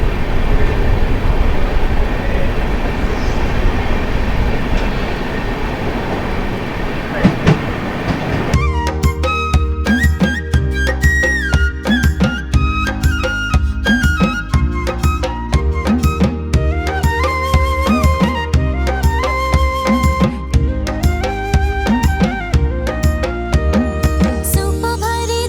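Karnataka Express, train 12627 from KSR Bengaluru to New Delhi, pulls into a crowded station with a loud, close rumble for about eight seconds before a rhythmic song with percussion abruptly takes over and drowns it out.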